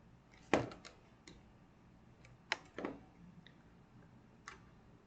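A computer mouse clicks in structural analysis software during a deep-excavation safety study: a few faint, sharp clicks spaced irregularly against quiet room hiss, with no talking.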